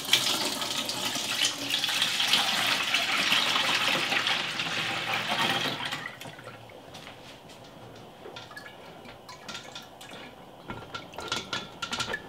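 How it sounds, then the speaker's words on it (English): Tomato juice pours through a strainer in a continuous liquid splash for several seconds, then stops, leaving quieter dripping and small clinks. "now we're just gonna pour it through this strainer and it will catch all the bits and all of the tomato seeds"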